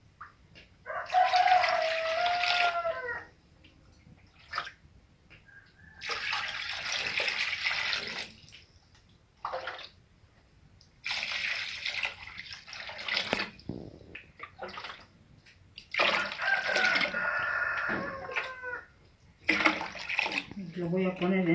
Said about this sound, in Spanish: Voy a echar agua.